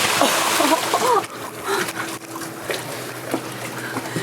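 A person falls into water: a loud splash and sloshing, followed by quieter lapping and small splashes continuing for a few seconds.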